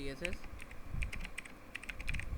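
Code being typed on a computer keyboard: a quick run of soft, close key clicks in uneven bursts, with a voice talking over them.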